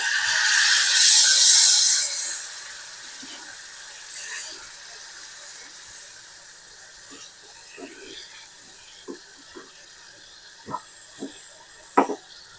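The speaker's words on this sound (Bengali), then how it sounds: "এখন দিচ্ছি অল্প জল, মানে ছানার জল আমি এখানে ইউজ করছি।" Whey from making chhana poured into a hot pan of well-fried spices for Amritsari paneer bhurji, a loud hissing sizzle that fades after two seconds, followed by faint scattered clicks and spoon taps.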